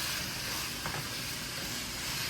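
Minced meat frying in a pan with chopped garlic, giving a steady, fairly quiet broadband sizzle that holds evenly throughout with no voices over it.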